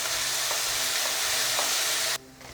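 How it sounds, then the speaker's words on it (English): Onions, slit green chili, ginger and minced garlic fry in hot oil in a pan, giving a steady loud sizzle with a few soft stirring scrapes before the sound cuts off abruptly. "So I'm adding onions, slit green chili, some ginger and minced garlic."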